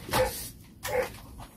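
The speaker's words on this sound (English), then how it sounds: "Shut up, dog!" Two short, loud barks from a nearby dog during a camper van build, spaced under a second apart, with no talking.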